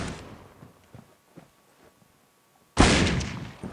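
Gunfire in the mobile shooter Critical Ops: faint distant shots scattered through the first seconds, then a loud close burst of fire near the end.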